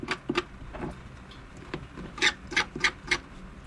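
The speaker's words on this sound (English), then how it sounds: "Scrape the tail, scrape them big fins." Scales being scraped off the tail and big fins of a cleaned catfish, a series of short rasping strokes in an irregular rhythm, close and fairly loud with no talk.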